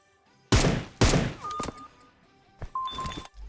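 Gunfire from DP and M4 rifles in PUBG Mobile, with two loud, close bursts of rapid shots followed by a few sharper single reports and a short final volley, separated by brief quiet gaps.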